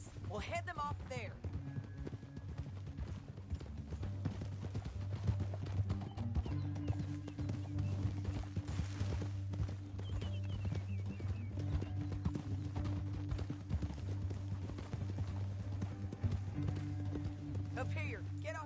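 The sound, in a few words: horses galloping, from the video game Red Dead Redemption 2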